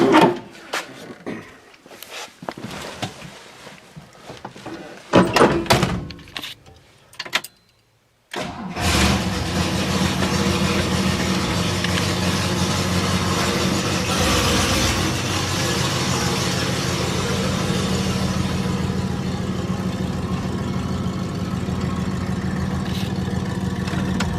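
An Oldsmobile's engine turns over and catches after a few brief knocks and a short pause, then settles into a steady, loud idle that runs on unbroken for the rest of the stretch.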